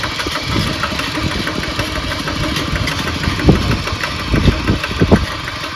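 A tractor engine that has been repaired runs loud and close after being shifted into second gear, with a continuous rough chugging drone and uneven knocking thumps near the end.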